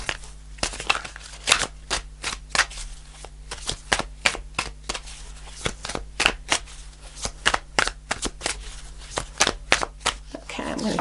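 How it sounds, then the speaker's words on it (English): Tarot cards are shuffled in a long series of quick, crisp riffling snaps, close and clear, repeating at a fairly steady rhythm with brief pauses between bursts and no talking. "Sometimes I shuffle and it takes longer."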